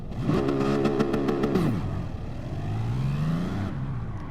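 A car engine revs hard for a launch, a rising roar that drops off and then builds again in a second climbing rev, close and loud.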